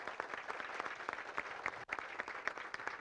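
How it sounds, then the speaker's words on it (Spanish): Applause breaks out from an audience honoring a woman named Doña Mirian, praised for caring for her community; a steady, fairly even wash of clapping with some sharper individual claps, moderately distant and without talk. "Yo quiero darle un aplauso a ella."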